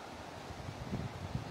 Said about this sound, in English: The wind's picked up a little bit.